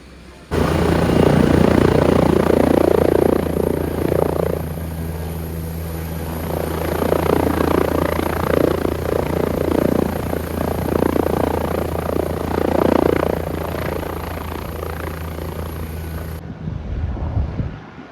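An air ambulance helicopter's engine runs steadily and loud at close range, a constant low turbine drone with rotor pulsing throughout, dropping off abruptly at the end.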